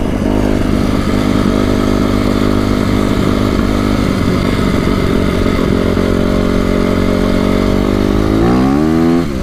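Honda CRF250R dirt bike engine running loud and close after being fixed, a steady buzzing idle that revs up sharply at the end, with no talk.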